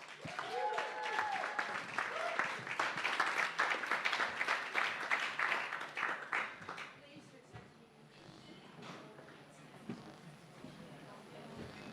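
Audience at a live comedy show at The Bedford applauding a comedian onto the stage: loud, dense clapping and cheering for about seven seconds, then fading to scattered claps and murmur.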